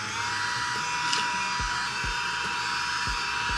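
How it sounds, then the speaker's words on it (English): A hair dryer blows continuously at close range, making a steady, loud airy whoosh with a motor whine throughout and a few low thumps of handling underneath. "So back with the dryer."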